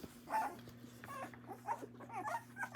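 A puppy whimpers and yips in several short, high-pitched bursts over a steady low electrical hum, fairly close and moderately loud, with no one speaking.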